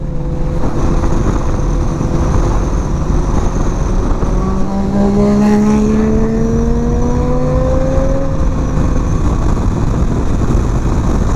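A Suzuki GSX-R 750 motorcycle on its stock exhaust runs steadily nearby, its engine note rising and falling through revs over a constant idle drone, with no talking.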